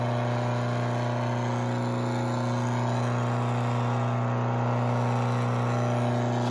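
An electric motor powered straight from an inverter runs at a steady pace, producing a loud, constant hum with a strong tonal whine and even whirring throughout, close up and with no voices.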